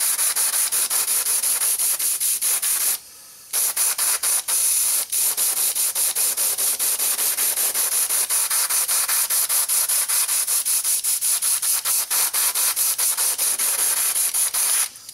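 Airbrush spraying Tamiya acrylic paint onto a 1/24 Ford GT model part, a steady loud hiss running almost continuously with one short pause and faint rhythmic ticking underneath.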